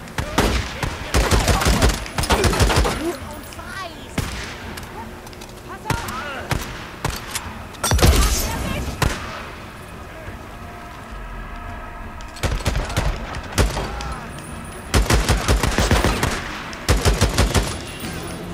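Gunfire in the zombie video game Days Gone, including a sniper, comes as loud clustered bursts of shots with short pauses between volleys, mixed with game noise and someone talking at times.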